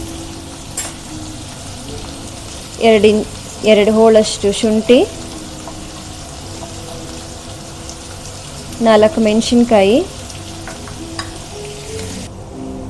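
Onions frying in a pan for avarekalu chitranna, a continuous low sizzle running the whole time beneath two short bursts of speech.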